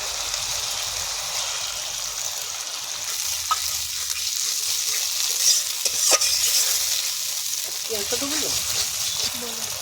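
Poppy seed, melon seed and cashew paste stirred into fried ginger and garlic in a frying pan, a steady sizzle with scraping spatula strokes throughout, close up, with faint voices at times.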